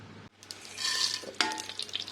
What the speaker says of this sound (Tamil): கடுகு நல்லா வெடிச்சிருச்சு